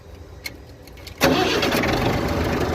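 A four-cylinder 60 hp International 444 tractor diesel catches on the first crank after a quiet moment, then settles into a steady, close idle rumble.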